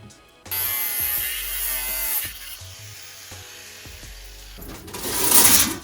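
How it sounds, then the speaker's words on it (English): An angle grinder slowly cuts a shape out of metal for an Astro van wind guard, a loud, steady high-pitched whine lasting several seconds that shifts in tone as the cut progresses and swells toward the end. "using an angle grinder to slowly cut out the shape that I wanted"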